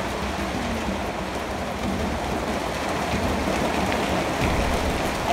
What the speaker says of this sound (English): it's raining so hard that it's starting to leak in here a little bit